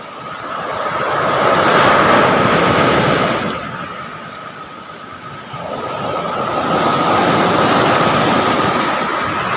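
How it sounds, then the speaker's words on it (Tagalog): Large ocean waves break on a provincial beach one after another, each a loud, close, rushing roar that swells, eases briefly, then builds again with no talking. "Sunod-sunod yung malaking alon."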